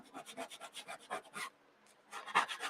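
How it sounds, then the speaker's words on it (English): Leftover gold leaf scraped off a mixed media art journal page: a quick run of faint, rhythmic rasping strokes, a short pause, then a few more scrapes, up close and alone. "little bit left of the leaf still on there. Just scrape it. It'll come off."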